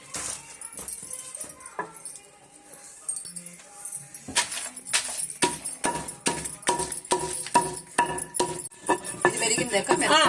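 Dried red chilies and salt pounded finely together in a home kitchen, with sparse knocks at first giving way to a steady run of sharp, rhythmic strikes that grow busier and louder.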